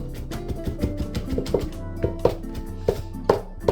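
A knife chops and minces food for baked ziti on a cutting board, a run of quick, uneven knife strikes with occasional louder taps, close and clear, over faint background music.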